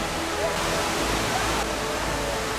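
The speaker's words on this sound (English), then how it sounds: "waterfall 3 is another magnificent cascade" Waterfall cascade in Yucatan, Mexico, a steady broadband roar of rushing water, loud and continuous with no breaks.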